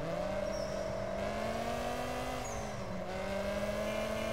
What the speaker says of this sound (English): Sounds like a viper or a vet.